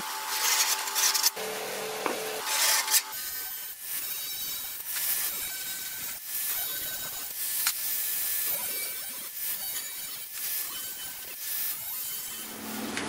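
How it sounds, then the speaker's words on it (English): Salvaged sheet metal is notched for trailer fenders, with scraping, rasping and clinking of tools on metal in uneven bursts and hisses, fairly close, with no talking. "Okay, the notching is done."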